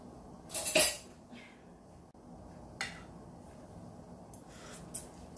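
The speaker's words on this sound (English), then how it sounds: "I'm gonna grab one more spoon to taste it again" A metal spoon clinks against a pot while Greek rice is tasted, one bright scraping clink followed by a few fainter taps spaced apart in a quiet kitchen.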